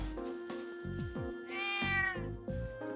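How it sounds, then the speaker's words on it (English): A cat meows repeatedly in the video game The Legend of Heroes: Trails of Cold Steel, several distinct mews in a row, clear and alone over a soft sustained music bed. "Oh look, it's a cat."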